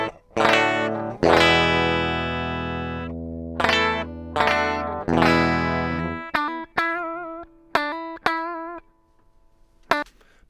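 Electric guitar with a bright mid-range tone and effects, plucked notes and chords ringing out, then shorter single notes decaying quickly, clean and close with no voices.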